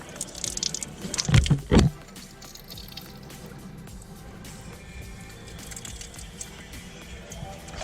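Water splashing and dripping as it drains out of a BMW E60 sunroof drain onto the ground, a brief louder gush near the start, then a steady low trickle.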